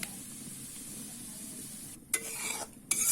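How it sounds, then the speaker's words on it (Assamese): Semolina being dry-roasted in an oil-free wok over a high flame gives a steady soft sizzle and rasp as it is stirred, with brief scraping clatters of a spoon against the pan near the end. "শুকান কেৰাহীখনতে আমি এতিয়া অকমান সুজি ভাজি লম"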